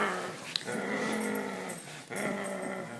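A dog growls at a puppy during play, giving close, sustained rumbling growls in two long bursts with a brief break between them, with a sharp yip near the start.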